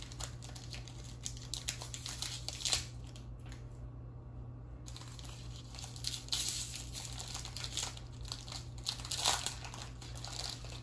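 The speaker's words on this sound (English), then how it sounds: "Look at this plastic. Look, it literally does not want to rip." Plastic wrapper of a Dragon Ball Super premium card pack being crinkled and tugged, steady close crackling and rustling that keeps going with a brief lull, no talking.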